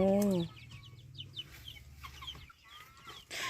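Chickens and ducks released together in a rural Thai yard, with a clucking hen and bird calls at close range, chirps and squawks scattered over low background noise and brief human voice sounds.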